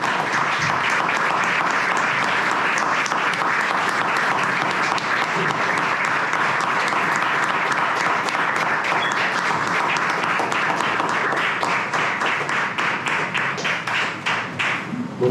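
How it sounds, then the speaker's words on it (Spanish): An audience at a presentation in a hall gives sustained applause, a dense, even roll of many hands clapping that carries steadily for about fifteen seconds before slightly thinning near the end. "en su memoria le voy a pedir que si podemos hacer una ronda de aplausos"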